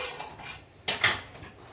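The metal lid of a pressure cooker being closed while cooking mag dal: a couple of close, bright metallic clanks and clicks over quiet kitchen background.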